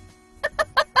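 Backyard chickens kept for eggs cluck close by, four short, evenly spaced clucks after a brief quiet moment.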